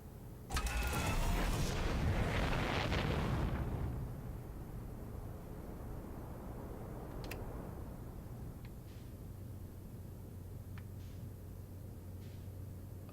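Spaceship thrusters roar loud and close in Outer Wilds, a burst of rocket-like rushing that settles after a few seconds into a steady lower engine hum. Faint clicks come and go, with no talk.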